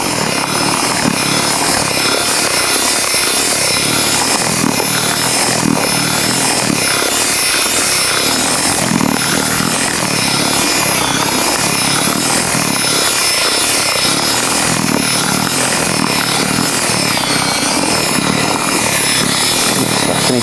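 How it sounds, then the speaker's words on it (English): A power drill churns steadily through wet soil being mixed with water, a continuous loud whirring grind that barely changes, close up and without speech. "Just keep the drill moving."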